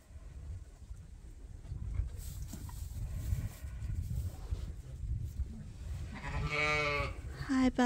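A ram bleats loudly and close by near the end, a wavering call rising out of low rustling farm noise and quiet handling sounds.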